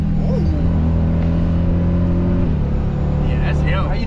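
Supercharged Dodge Durango Hellcat engine holding a loud, steady rumbling drone from inside the cabin, with a slight drop in pitch partway through and people talking over it.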